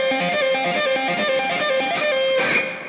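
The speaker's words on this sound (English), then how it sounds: "I'm just going to play it in an easier way" Electric guitar plays a solo lick in a simplified fingering, a quick run of bright repeated notes ending on a sustained bend, loud and close with no voice.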